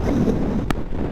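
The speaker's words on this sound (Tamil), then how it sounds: "காத்து தான் பிடிச்சி தள்ளுது, வண்டியை ஸ்டடி பண்ணவே முடியல." Steady, loud wind buffeting a microphone during a motorcycle group ride departing Kanyakumari, a dense low rumble filling the whole moment with one brief higher burst near the middle.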